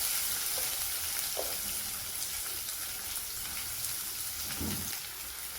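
Sliced onions fry in hot oil with cinnamon, cloves, fennel and curry leaves for an egg kurma, a soft steady sizzle with faint crackles and an occasional stir, fairly quiet and without talk.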